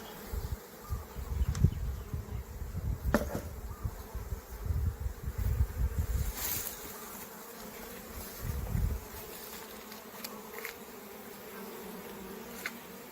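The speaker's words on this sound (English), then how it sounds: "I'm going to move the bees on this area back, further back. into the hive." Honeybees buzz steadily around a hive during a hive remodel at a honeybee sanctuary, a dense close hum with occasional rustling and knocks of handling.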